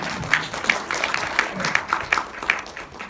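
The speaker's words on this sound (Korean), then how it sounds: "이럴 땐 박수도 치셔도 됩니다" Scattered audience clapping at a Korean political talk, light and uneven rather than a full ovation, with a faint voice murmuring underneath.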